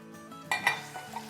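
Large bone-in lamb leg pieces drop into a pot to fry, giving a few quiet clattering knocks against the metal and a light sizzle, close by.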